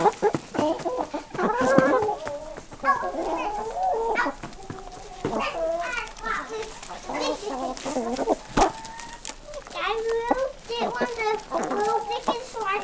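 Bantam hens and chickens cluck and chatter close by on a homestead, a busy, continuous flock sound with children's voices talking over it.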